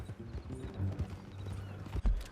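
Horse hooves clip-clop in Red Dead Redemption 2, a quick, uneven run of close, thudding steps over a few seconds, with a short snort or whinny near the end.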